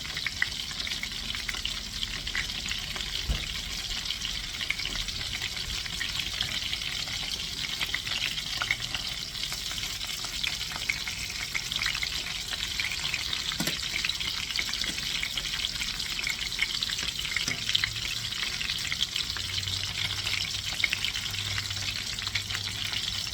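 Cajun-seasoned chicken thighs fry in butter and oil with a steady, loud sizzle and crackle that runs without pause, with a few faint stirring clinks and no voices.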